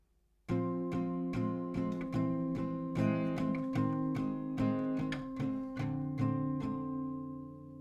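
Acoustic guitar chords from a song, strummed with four even down strokes on each grip, ringing out clearly and alone with no talking over them.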